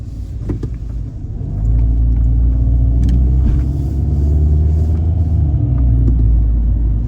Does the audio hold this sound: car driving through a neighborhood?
yes